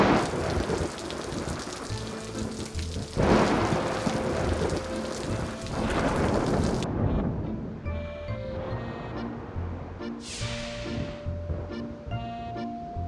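Rain falls in a children's cartoon, first as a dense, steady hiss of heavy downpour. The rain then thins out under soft tonal background music with a few swelling gusts.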